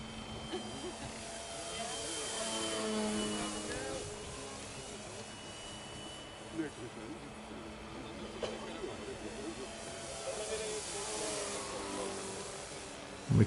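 F4B scale model aircraft engine flying a touch and go with flaps down, a continuous buzzing drone, moderately loud, rising and easing slightly as it passes.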